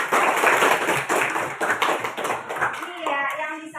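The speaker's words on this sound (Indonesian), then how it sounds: "Tepuk tangan ke temannya." A classroom of fifth-grade children claps for a classmate, a dense burst of quick hand claps close by, with children's voices mixed in and the noise thinning toward the end.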